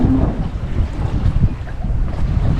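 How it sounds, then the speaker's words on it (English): A sailboat under sail in light wind, with a steady broadband rush of wind across the microphone and water noise that stays continuous and fairly loud, with no engine running. "At least we're sailing."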